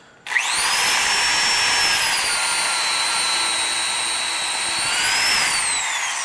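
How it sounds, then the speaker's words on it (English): A loud, steady high-pitched whine of a power drill boring into metal continuously, its pitch holding level and then shifting slightly near the end, with no talking. "The deeper I get, the more I gotta pull the drill back out"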